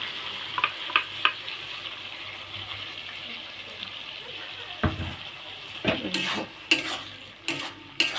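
Mustard paste going into a drumstick curry that is frying in a pan and being stirred in, with a steady sizzle and a few sharper scrapes and clatters near the end.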